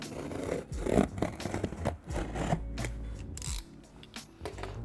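Stanley knife slicing through tape along the top, bottom and middle of a cardboard plant delivery box, a series of close, quiet scraping and ripping strokes with brief pauses between them.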